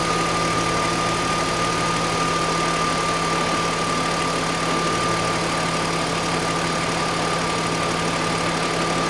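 A car engine idles steadily after a Liqui Moly engine flush, a constant close mechanical hum with a faint whine and no change in speed throughout, nothing else heard.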